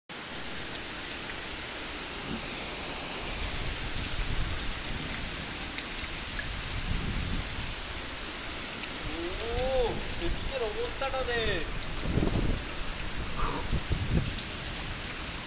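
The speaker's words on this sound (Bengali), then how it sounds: "প্রচুর বৃষ্টি হচ্ছে।" Heavy rain pours steadily outdoors at a construction site, a dense, continuous hiss throughout, with brief voices speaking partway through.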